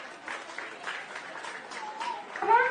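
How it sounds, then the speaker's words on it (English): An audience at an outreach event on India's Aditya L1 solar mission applauds the participants with a light, fairly distant patter of clapping that holds steady and swells slightly at the end. "Let me hear a big round of applause for all the participants."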